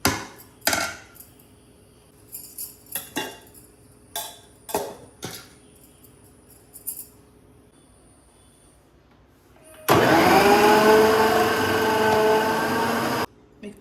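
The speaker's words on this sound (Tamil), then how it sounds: "மிக்சியில் வாழைக்காவை இப்படி ஸ்லைஸாக சீவி எடுத்தாச்சு" A mixer grinder slicing raw plantain runs in one loud, steady burst lasting about four seconds. Scattered clinks and knocks from the kitchen come before it.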